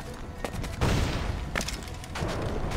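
A grenade explosion in Assassin's Creed Black Flag, a loud booming blast near the one-second mark among several sharp bangs and crackling shots, with a steady background of game noise.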